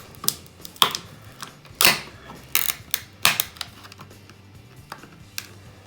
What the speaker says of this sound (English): now we can come in here with a screwdriver and start prying away